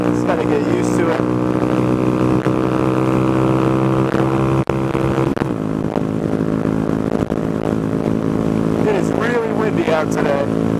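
A Honda Grom motorcycle being ridden on a windy day: a steady, buzzing single-cylinder engine drone runs throughout, its pitch sliding up and down with rev-matched downshifts, with a voice briefly heard over it.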